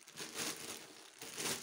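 Plastic packaging of a Perfex toilet paper multipack crinkles in two close, brisk bursts of rustling, with no talking.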